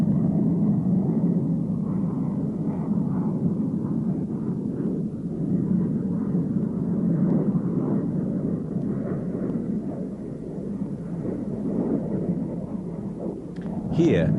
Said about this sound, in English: With the air brake raised, the plane slows for its approach.